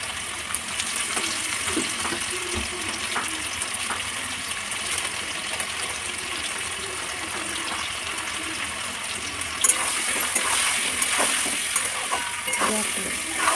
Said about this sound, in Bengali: ভাজা ভাজা মতন করলাম, আলুতে একটু ভাজতে দিলাম।